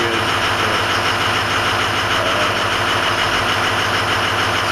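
A Ford 6.0 Powerstroke diesel engine idles after a cold start on a mild day. It runs as a loud, steady, close rumble with a fast rhythmic clatter and no talking over it.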